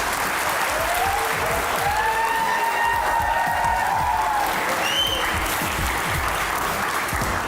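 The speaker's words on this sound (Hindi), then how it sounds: "प्लीज आइए, तालियां बजती रहनी चाहिए।" A crowd claps steadily and loudly throughout, a dense wash of applause with a few faint whistles rising over it.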